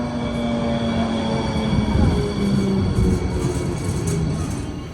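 A tram rolls toward Port Imperial, New York, a steady loud rumble of a rail vehicle in motion with constant low-pitched drone and faint wheel noise, heard from inside without talking.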